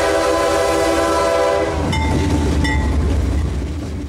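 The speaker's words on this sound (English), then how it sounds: "Clear signal at the north end of Plant City Siding, and our 650 train is gaining speed again." A 1997 juice train pulls past Plant City Siding as it picks up speed, with a loud horn blast up close, then heavy rumbling wheels and rail clatter.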